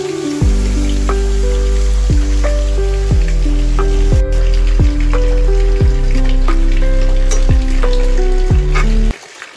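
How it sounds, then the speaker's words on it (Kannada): Cut taro leaves hit a hot tempering of crushed cumin and pepper, setting off a loud, steady sizzle and crackle with a series of sharp pops and stirring clatters throughout, with no voice. "ಈ ಒಗ್ಗರಣೆಗೆ ಈಗ ಕಟ್ ಮಾಡಿದ್ದ ಕೆಸುವಿನ ಎಲೆಯನ್ನು ಸೇರಿಸ್ಕೊಳ್ತಾ ಇದ್ದೇನೆ."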